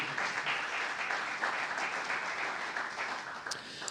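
Congregation applause during a church service, a steady dense wash of many people clapping at moderate volume throughout, with no talking over it.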